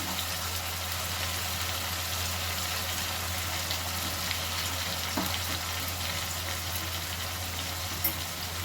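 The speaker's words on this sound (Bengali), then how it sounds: "আবারও ভালো করে নাড়াচাড়া করে নেব" A vegetarian dish cooks in a pan with a little water and salt, giving a steady low sizzle and bubbling hiss throughout, with a few faint clinks of stirring.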